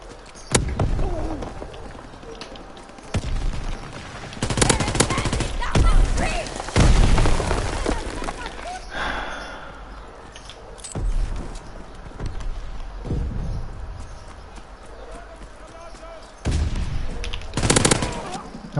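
Bursts of sharp gunfire crack out repeatedly in Call of Duty: WWII, some in rapid volleys and others as single shots, mixed with game effects and occasional talking in Portuguese.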